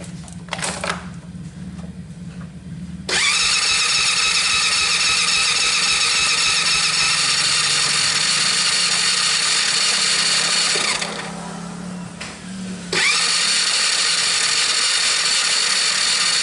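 A Kayo Predator 125 dirt bike engine cranked and caught, then running at a loud steady high-revving buzz, briefly dipping before revving up again, close and alone.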